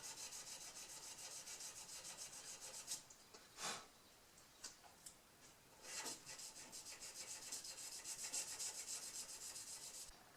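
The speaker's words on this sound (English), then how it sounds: "Got some 600 grit sandpaper here and just cleaning it up a little bit." A bone guitar saddle for an Epiphone guitar is rubbed on 600 grit sandpaper, a faint, fast, rhythmic scratching of short strokes with a few louder swipes and no talking.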